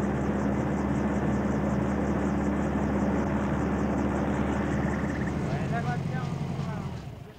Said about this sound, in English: Cousteau descends from the sky in the Calypso helicopter